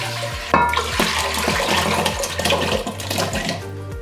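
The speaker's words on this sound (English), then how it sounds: "what I'm going to do now is transfer them to a pot" Diced potatoes soaked in cold water tip from a bowl into a pot, giving a close, sloshing pour of water with clattering thuds and knocks against the pot through the clip.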